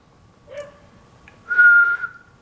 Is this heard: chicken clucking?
no